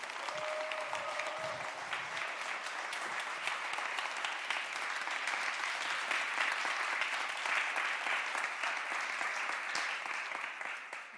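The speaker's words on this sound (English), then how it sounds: "Thank you very much for this warm applause" Warm, sustained applause from a conference audience at a summit opening, dense steady clapping filling the room for the whole stretch, with a faint voice near the start.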